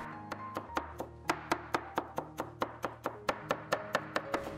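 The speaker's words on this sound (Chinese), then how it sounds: "再剁成蒜末。" Knife chopping and mincing garlic on a cutting board, a steady run of about twenty crisp, evenly spaced thunks with light background music, no speech.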